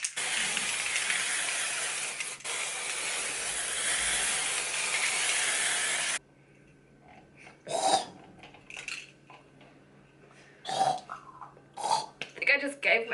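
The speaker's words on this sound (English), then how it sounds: "This just releases the most amazing, amazing mist of gold glitter." A can of gold glitter spray releases a continuous, close hissing mist for about six seconds, then cuts off abruptly, followed by someone talking and laughing.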